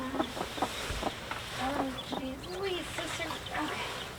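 Baby chicks peep in short, high chirps, several overlapping and close by, over a low rustle, with a voice speaking in the background.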